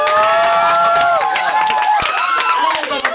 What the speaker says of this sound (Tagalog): kaya palakpak naman dyan, babae, lalaki, o babakla